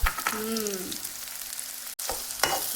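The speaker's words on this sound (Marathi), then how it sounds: "हे आहे मोहरीचं तेल तर चला आता कांदा हिरवी मिरची आणि लसण" Onion, green chili and garlic frying in hot mustard oil, giving a close, steady sizzle with stirring scrapes and a brief break near the end.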